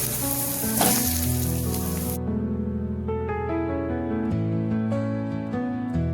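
Onions, chillies and boiled potatoes frying in a pan sizzle brightly for about two seconds, mixed under loud tonal music that carries on alone afterwards.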